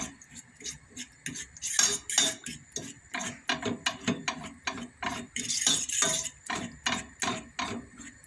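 A spoon mashes banana into milk for a baby, producing quick rhythmic clinks and scrapes against the bowl. The sound is close and steady, with no talking.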